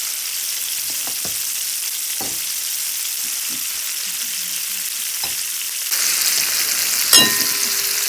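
Mustard greens (saag) frying in browned butter give a steady, even sizzle throughout, with a few soft stirring clinks. The sizzle grows slightly louder and brighter toward the end, with a sharp scrape near the close.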